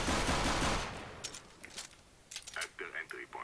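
Rapid gunfire from the video game Counter-Strike: Global Offensive, a loud burst of automatic fire at the start, then scattered quieter shots and clicks under occasional speech.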